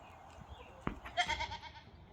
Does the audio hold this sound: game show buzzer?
no